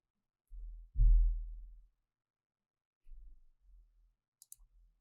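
A computer mouse clicks Finish in the Nmap network mapper installer, giving a few brief, sharp clicks near the end after some soft, low thumps of desk handling.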